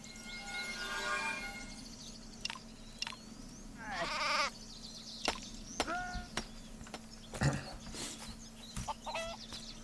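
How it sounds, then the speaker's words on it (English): Sheep bleat in the crafting and building video game Craft The World: several short, bright cries scattered among clucking and other barnyard animal calls, with no talking. "I have to kill sheep to get the wool"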